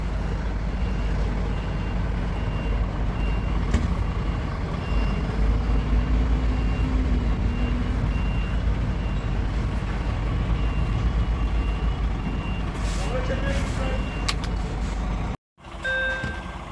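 A semi-trailer truck reverses onto a loading ramp dock, its engine droning steadily with a reversing beep, the loud rumble continuing throughout and cut by a brief gap near the end.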